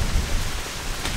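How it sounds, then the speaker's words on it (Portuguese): Heavy rain pouring down over cattle pasture, a dense, loud and constant roar of drops with no pauses and no talking. "A chuva tá bacana aqui, temporada chuva continua."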